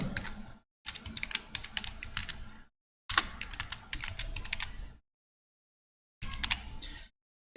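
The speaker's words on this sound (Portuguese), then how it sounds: "E aqui vou digitar." Fast clicking of keys on a computer keyboard comes in three bursts of typing with short pauses between them, close and clear, no speech.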